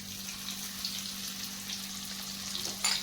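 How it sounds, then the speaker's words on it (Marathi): Stuffed brinjal coated in masala sautés in a pan, a steady close sizzle of frying running throughout, with a brief louder stir or scrape near the end. "आपल्याला हे आता परतून घ्यायचं"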